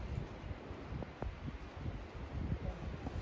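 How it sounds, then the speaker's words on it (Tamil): Strong wind gusting across a mountain pilgrimage trail, a steady broadband roar with rustling buffets close to the microphone and no voices. "காற்ற பாருங்க அப்படி அடிக்கலான்ட்டு பயங்கர காற்று"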